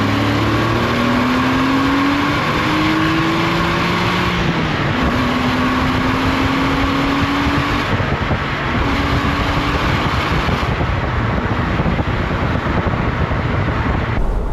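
A Porsche Boxster S 986 flat six engine pulls hard through several rising gears, its loud, growling note climbing in pitch and dropping at each shift amid heavy road and wind roar.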